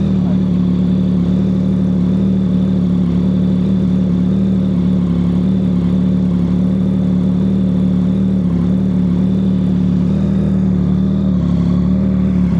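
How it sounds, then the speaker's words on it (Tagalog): A Yamaha MT-09 SP motorcycle with an Orion Precilla aftermarket exhaust idles with a steady, low rumble at close range, even and unchanging throughout, with a faint mechanical whir above the deep tone. "So ganito ang tunog niya pag idle ang ating makina."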